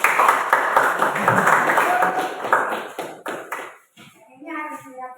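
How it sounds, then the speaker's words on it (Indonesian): A classroom of vocational high school students applauds a presenting group, with a burst of quick hand claps that fades out, followed by quieter talk. "beri aplaus untuk kelompok 1"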